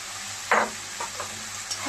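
Chicken pieces fry in a pan with softened tomato, a sharp scrape of the stirring spoon standing out over a steady background sizzle, followed by a few lighter stirring touches, close-up.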